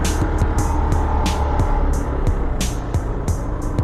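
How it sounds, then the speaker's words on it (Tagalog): Road traffic during a motorcycle ride, heard as a steady rush of engine and wind noise. Faint rhythmic thumps repeat over it, and no one speaks. "dito pala nag-umpisa ang traffic."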